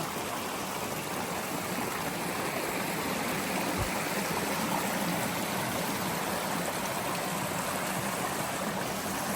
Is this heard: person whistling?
no